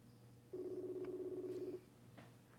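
A telephone being dialed for a call gives a single steady electronic tone lasting about a second, followed by faint clicks, heard quietly and alone.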